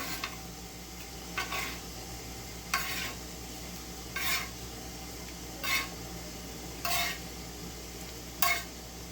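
Fish pieces go into a pot with boiled potatoes and tomatoes, followed by a soft background simmer and a series of six or seven distinct stirring scrapes at regular intervals.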